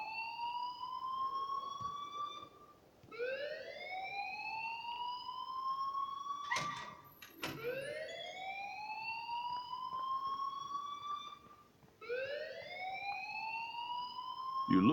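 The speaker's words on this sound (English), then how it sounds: "please turn off that alarm since that's your job" A fire alarm in the video game Life is Strange sounds a repeating rising siren-like wail, rather loud, in regular sweeps every few seconds, with a brief sharp clatter in the middle.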